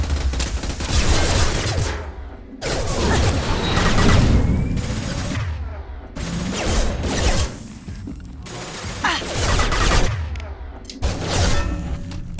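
Mass Effect: Legendary Edition gunfire comes in dense, loud bursts of rapid shots and mechanical clatter, broken by several short pauses over a dozen seconds.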